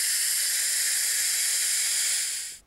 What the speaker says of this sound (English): Watch me caulk.